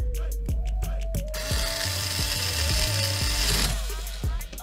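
Metal bolts being worked on a WPL B16 model truck, giving a steady mechanical whir with repeated ratcheting clicks and short pauses, close and fairly loud, with no talk.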